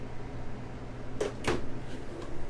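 Two quick wooden knocks and a short slide, like a drawer being pulled open, as a small tool drawer in a 2020 Jayco Redhawk 24B Class C motorhome opens, fairly close, over faint room hum.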